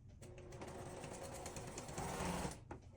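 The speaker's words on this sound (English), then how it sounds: "Now I'm going to start from the beginning. Always remember to back stitch at the beginning," A sewing machine stitches a seam on a fabric star, starting with a backstitch, in a steady rapid whirring rattle that runs close and continuous for the full length, growing slightly louder near the end before easing.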